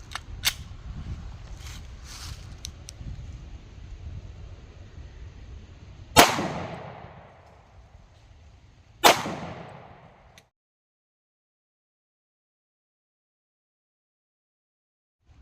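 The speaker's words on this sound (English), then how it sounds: "2 shots, starting with a 155 grain XTP." Two sharp, loud gunshots ring out in low light from a .40 S&W pistol firing 155 grain XTP defensive rounds, a few seconds apart, each cracking and then decaying into a short echo after faint background rustling.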